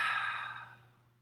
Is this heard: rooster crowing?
no